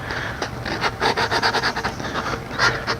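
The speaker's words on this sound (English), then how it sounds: "So I just take that sanding block and then I just rub that on that sanding block" The cut end of a metal tube is rubbed back and forth on a sanding block to deburr it. The result is a quick series of close, rhythmic gritty scraping strokes.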